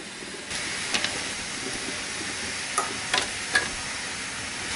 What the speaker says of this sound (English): Just place all your jars in this boiling water